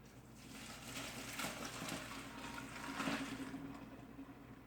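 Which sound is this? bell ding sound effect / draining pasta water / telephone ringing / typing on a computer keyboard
draining pasta water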